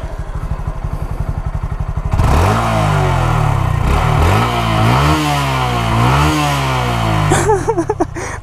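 A 2017 Honda Grom idles with a rapid, even putter, then its single engine is revved up several times in rising and falling swells, loud and close, ending with a quick throttle blip and no voices.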